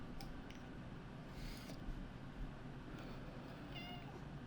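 A cat meows faintly a couple of times behind steady background noise during a card game session, short harmonic cries standing out briefly.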